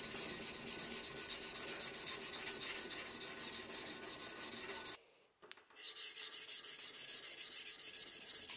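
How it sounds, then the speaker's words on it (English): A seax blade being polished with 320 grit sandpaper wrapped around a hard metal bar gives a steady, continuous rasping rub of close strokes, broken by a brief pause just past the midpoint before the rubbing resumes. "Jesus will begin the polishing routine, starting at 320 grit sandpaper, backed with a hard metal bar that serves the purpose of being a two-handed grip sanding stick."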